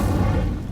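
A short low whoosh and boom as the Incendio fire spell ignites dry vines in Hogwarts Legacy, loud and close, lasting under a second before fading.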